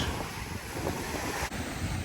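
Strong sea waves near cliffs off Koh Lipe, Thailand, heard from a kayak as a continuous loud wash of surf mixed with heavy wind buffeting the microphone, with no voices.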